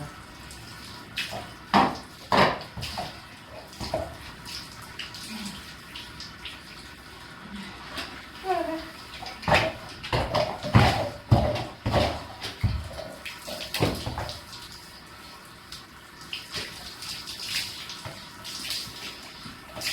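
Water runs and splashes in uneven bursts while shampoo is rinsed off a horse at a horse show, fairly close, with no talking over it.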